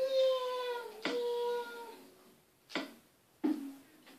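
A cat in Minecraft on PS3 gives a few drawn-out meows, each ending in a sharper burst, spaced across a few seconds over a quiet background.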